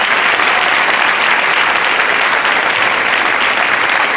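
A church congregation applauds during an evening service, dense, loud, steady clapping filling the space without a break and no voices standing out.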